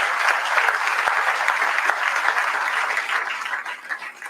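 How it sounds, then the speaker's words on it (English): An audience gives a steady round of applause at a public announcement event with a state governor and a children's hospital, clapping dense and continuous throughout before beginning to thin near the end. "Let's give them a round of applause, if you would."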